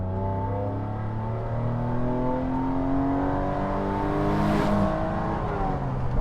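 A Mercedes-Benz R107 SL300 restomod with a modified engine revs hard and loud, climbing steadily toward 7,000 RPM with rising harmonic whine, close and continuous, no talk.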